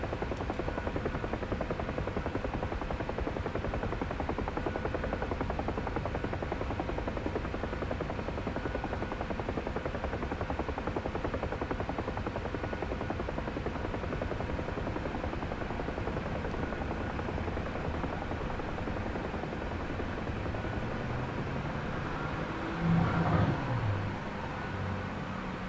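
A UH-1 Huey helicopter in the DCS combat flight simulator touches down at night, its rotor and turbine producing a steady, moderately faint drone throughout, with a brief bump near the end.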